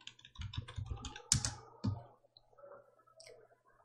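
Keys clatter on a computer keyboard in a run of quick, close taps, followed by a couple of sharper presses like the Enter key being struck while working in PowerPoint, then softer scattered clicks.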